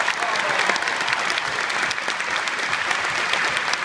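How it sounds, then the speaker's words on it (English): A Doctor Who convention audience applauds, a steady wash of many hands clapping throughout, fairly loud and filling the room, with faint voices mixed underneath. "we must also give a round of applause to the man who did such a"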